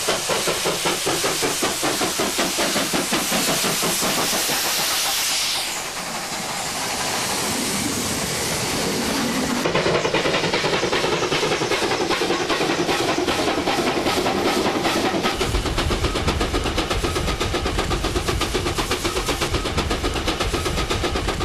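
A Scottish steam locomotive crosses a bridge over a waterfall in England. A loud, steady, rapid chuff beats throughout over a constant hiss of steam, and the sound shifts and intensifies partway through.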